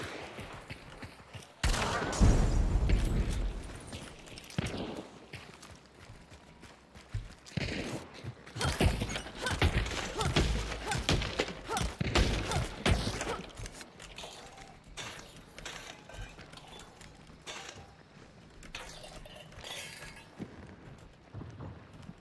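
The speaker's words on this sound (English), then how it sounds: "I think that's a gun." Gunshots in Hunt: Showdown, with a loud blast and several heavy cracks and rattling impacts spread through a long stretch, some close and some farther off, with occasional voices in between.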